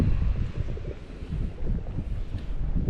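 Steady gusting wind buffets the microphone, a low rumbling roar that swells and dips continuously with no other sounds.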